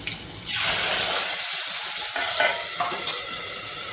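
Spiced yogurt mixture being stirred in a hot pan with moong, curry leaves, green chilli and ginger for a Kathiyawadi fenugreek-papad curry, giving a steady close scraping, sizzling and bubbling texture with no talk.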